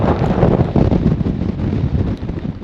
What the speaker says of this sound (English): You see a massive gust.